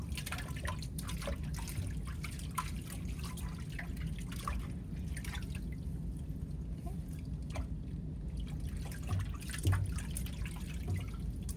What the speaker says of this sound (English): You just gotta wait it out for the water to fill up.